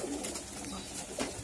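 Pigeons coo steadily and close by at a nest where one bird sits on its eggs, with a low, rounded cooing running through the whole short stretch and no talking.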